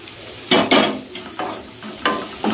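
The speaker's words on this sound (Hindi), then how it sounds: "इसको डाल के भी दो मिनट भूनेंगे ताकि टमाटर हमारा गल जाए" Finely chopped tomatoes fry in the tadka for Punjabi dhaba-style mixed dal, a loud close sizzle broken by several bursts of spatula stirring and scraping.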